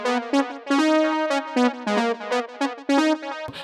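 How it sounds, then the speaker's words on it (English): A synth patch from the Arturia Jupiter-8V plays a bright, harmonically rich chord riff with rhythmic stabs and short gaps, loud and alone with no talking. "This is out of my Jupiter 8V synth,"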